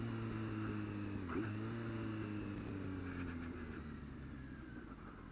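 A 2020 Kawasaki Z900 motorcycle engine runs steadily near the microphone, a low even drone with a brief dip around the first second as if through a gear change, then settling and slightly fading toward the end.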